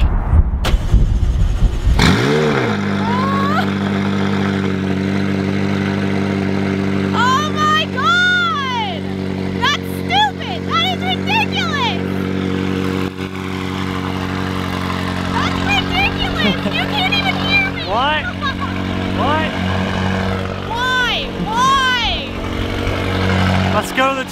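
A McLaren 570S supercar with a straight-piped exhaust and new downpipes sits at a loud, droning idle close by and is repeatedly revved in sharp blips. Voices talk over the engine noise.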